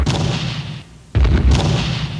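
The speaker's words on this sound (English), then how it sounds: "A big explosion. Enormous explosion." Heavy explosions boom during a night bombardment in the 1991 Gulf War, with dense, rumbling blasts that fill the clip, drop out briefly, then hit again hard and close.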